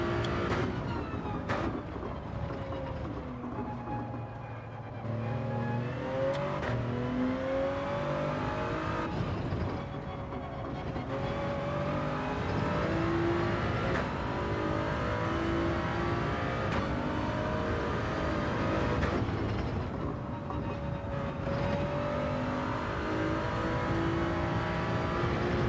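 A race car in Gran Turismo 7 revs hard down a straight, its engine note climbing and dropping through repeated gear shifts, loud and continuous with no talking.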